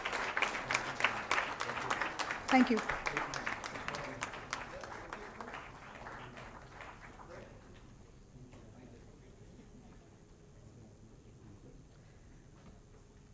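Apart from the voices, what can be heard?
audience applause for awardees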